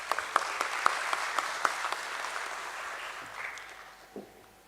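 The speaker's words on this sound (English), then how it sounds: "Let's welcome her with a big round of applause." An audience at a stock exchange listing ceremony claps steadily in a big round of applause, dense and mid-distance, tapering off toward the end as the room quiets.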